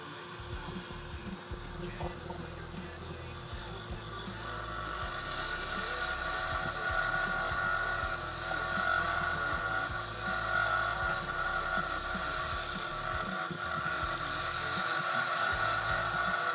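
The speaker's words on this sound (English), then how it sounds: "this has got a little motor that's got brushes, kind of like a Dremel" A small wood lathe driven by a little brushed motor hums steadily throughout, its whine rising slightly as it runs, close and continuous with no clear talk.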